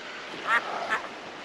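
A mother wild duck quacks twice in quick succession after her eggs were taken, fairly close against a steady background hiss of water or surf.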